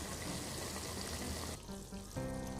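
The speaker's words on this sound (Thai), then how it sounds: "กิวกระหล่ำของเราอยู่ในขั้นตอนการตุ๋นนะคะ" Vegetarian cabbage rolls with shiitake mushrooms stew in a pot over low heat, giving a faint, steady bubbling simmer with a soft sizzle and trickling texture.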